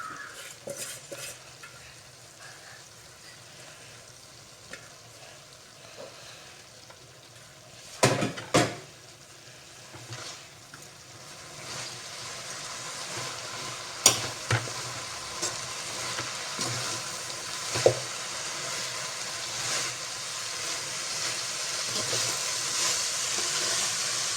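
Coriander leaves and tomato fry and sizzle in a pan for chutney, a steady close hiss broken by several sharp clatters of stirring against the pan, with the sizzle swelling louder toward the end.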